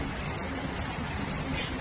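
Heavy rain falls on a cement concrete road, a loud unbroken wash of hissing spray and drops that stays level throughout.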